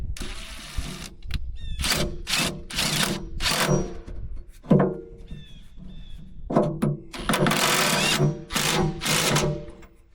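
An impact wrench works on bolts of a John Deere 3039R tractor, firing in several short, sharp rattling bursts separated by pauses and clunks of handling.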